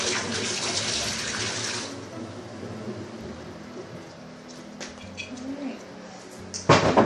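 Organic apple juice glugs and splashes steadily as it is poured into a fermenter for hard cider, loud for the first two seconds and then tapering to a quieter trickle, with a sharp clatter near the end.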